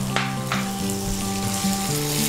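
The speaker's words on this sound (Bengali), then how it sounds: "পেঁয়াজটা লালচে করে আমরা ভেজে নিয়েছি, এবার রসুনটাও দিয়েছি।" Onion and garlic fry together in a pan for a tomato fish dish, a bright continuous sizzle with crackles and light scraping of a spatula, close and steady throughout.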